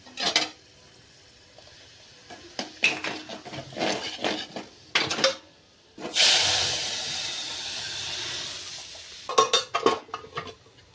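Hot red-spice tempering hits cooked dal with a sudden loud sizzling hiss that lasts a few seconds, framed by clinking utensil and pot sounds before and after.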